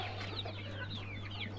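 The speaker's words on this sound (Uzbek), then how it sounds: "Ularga tomon o'zimizga tuxumga qo'yilgan tovuqlar va o'shalarda bolalari mana." Egg-laying hens and their chicks cluck and peep in a steady, overlapping chorus close by, with high chirps scattered throughout over a low constant hum.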